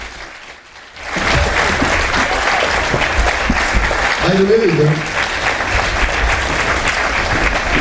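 Theatre audience applauding steadily after a near-silent first second, loud sustained clapping with a voice briefly speaking over it.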